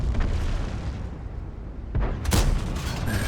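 A tank cannon in World of Tanks fires with a sharp, heavy boom near the end, following a low rumbling battlefield ambience with a softer thud just before it.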